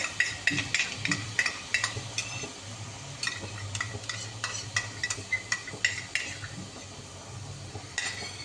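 Sour yogurt being stirred into a dish in a pan, with a spoon scraping and clinking in quick irregular strokes over a low steady sizzle, close and moderately loud throughout.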